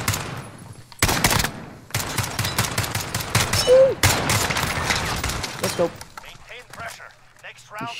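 Gunfire in Call of Duty Modern Warfare: several close bursts of rapid shots separated by short gaps, loud and dense, then fading to quieter game sounds as a voice talks over parts of it.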